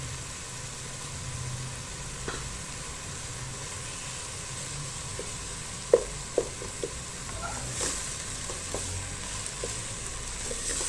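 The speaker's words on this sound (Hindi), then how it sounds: "अब इसे अच्छी तरह से जो है हमने भून के रेडी कर लेना है" Minced meat keema with about two tablespoons of yogurt fries in a pan for aloo keema, a soft steady sizzle with a few sharp spoon taps and scrapes near the middle, fairly quiet and without speech.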